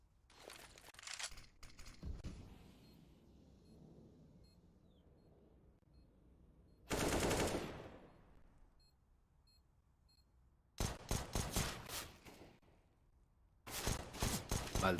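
Counter-Strike match with pistol and AK rifle gunfire, heard as sharp bursts of rapid shots, one around the middle and two clustered near the end, with scattered faint game sounds in between.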